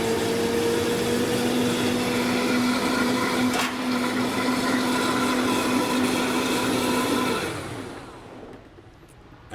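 A blender runs loud and steady, whirring through a chickpea, tofu, spices and red pepper sauce with a sustained motor whine, then winds down and stops near the end.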